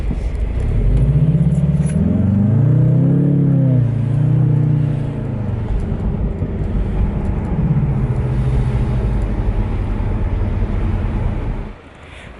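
A Jaguar F-Type 2.0T drives along with a loud, close engine note that rises and falls as it pulls away and shifts, then settles into a steady rumble with road noise before dropping off at the end.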